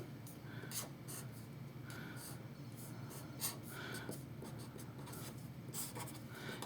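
A pen scratches across a sheet of paper during a chemistry lecture, quiet irregular strokes of scribbling over low room hum, with faint breathing.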